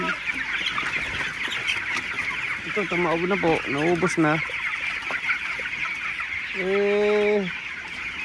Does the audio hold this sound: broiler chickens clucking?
yes